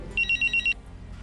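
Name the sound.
telephone ringing with an incoming call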